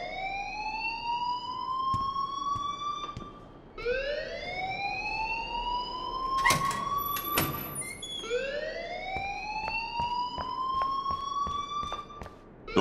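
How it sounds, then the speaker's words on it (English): An alarm ringing in the video game Life is Strange, a rising, wailing electronic tone that sweeps upward again and again at a steady pace, with sharp clicks and knocks scattered through it. "please turn off that alarm since that's your job"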